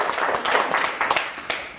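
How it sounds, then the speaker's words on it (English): Audience at a conversational hypnosis training session applauds as a volunteer comes up front: a brief, steady spatter of many hands clapping at moderate volume. "Okay, give a round of applause."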